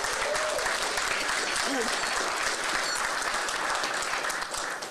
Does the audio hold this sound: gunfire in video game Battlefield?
no